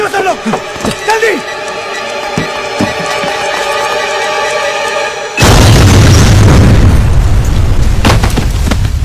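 A bomb blast in a Hindi film scene crashes in suddenly and loudly partway through, a broad roaring boom that follows quieter passages with tonal music and scattered knocks.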